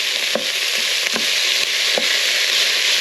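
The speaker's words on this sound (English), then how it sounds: "Sizzling." Steady, loud sizzling of mince frying in a hot COSORI 5.7-litre pressure cooker, with a few soft scraping stirs punctuating the constant crackle.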